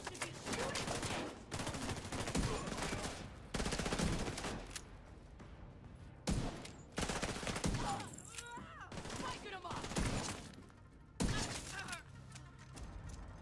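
Video game gunfire from a realism campaign rattles out in long, loud, dense automatic bursts separated by short pauses, with scattered single shots and a voice talking faintly underneath.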